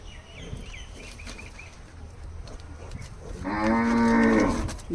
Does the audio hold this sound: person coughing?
no